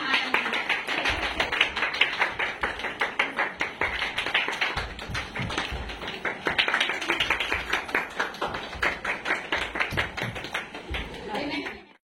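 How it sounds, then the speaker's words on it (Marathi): A group of mothers claps in a quick, even rhythm during a timed one-minute game at a parents' meeting, the claps close and continuous for about twelve seconds before stopping abruptly, with voices talking over them. "टाळ्या वाजवा बाकीच्या"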